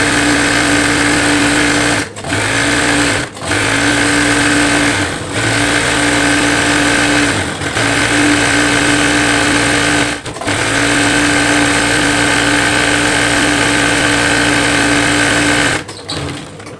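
A sewing machine stitching a mukena with the pedal pressed fully, running in a loud steady whir with a low motor hum, broken by several brief stops and restarts.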